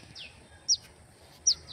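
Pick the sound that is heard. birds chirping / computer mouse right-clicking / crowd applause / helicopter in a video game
birds chirping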